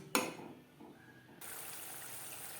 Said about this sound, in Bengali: যেই মিক্সচারের জারে করে আমি টমেটো বেটেছিলাম সেটা দিয়ে আমি জল অ্যাড করলাম।